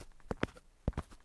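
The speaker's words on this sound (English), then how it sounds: "Do you hear heavy footsteps approaching?" Heavy footsteps approach as a sound effect, two pairs of thudding steps close by with a short pause between them, with no voices.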